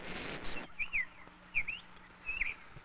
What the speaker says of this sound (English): called golden-cheek warblers come back to their special home in these hills after spending the winter in Central America